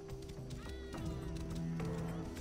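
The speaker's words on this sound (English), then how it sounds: "There's the horse." A horse in Assassin's Creed Origins, with hoof clip-clops and a brief whinny-like tone under game music and ambience.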